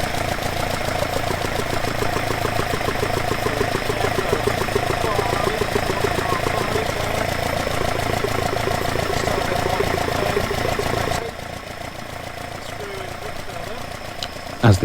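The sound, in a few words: car engine idling while balancing twin Dellorto/Weber carburettors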